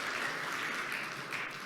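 A brief stretch of applause at a business management innovation awards ceremony, steady, soft and somewhat distant, with no voices.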